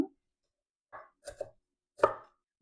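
A knife slices a shallot thinly on a cutting board for a Cambodian soup. Several distinct, close chopping taps come in a loose, irregular rhythm against silence.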